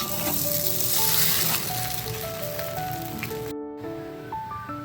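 Noodles sizzle and fry steadily in a hot pan with thick green chillies, a continuous close crackle broken by the scrape of stirring and a brief cut near the end.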